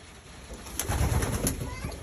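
Young pigeons coo softly inside a loft, a brief low burst of cooing at close range over a faint steady background.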